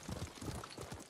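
Horse hooves clip-clop in a quick, even rhythm in the video game Ghost of Tsushima, close and fairly soft over a brief stretch.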